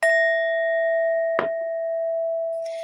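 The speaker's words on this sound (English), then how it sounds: "I'm about to hit the bell." A bell is struck, starting with a clear sustained ringing tone that holds steady and slowly fades, while a brief knock or rustle lands partway through, all close and with no speech.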